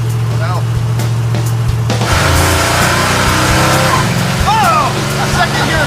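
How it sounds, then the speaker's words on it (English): A 1940 Ford gearbox grinds as it is shifted into second gear, a short harsh scrape over loud engine and road noise while voices are heard inside the car. "A second gear scratch."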